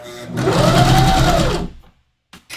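A sewing machine stitches along a curve that has been straightened out flat, running loud and steady at close range for about a second and a half before stopping, followed by a brief quiet and a short faint restart.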